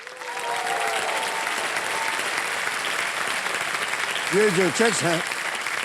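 Studio audience applause at a televised quiz show where contestants receive one-crore cheques, steady clapping under a man's speech, with a short burst of louder clapping near the end.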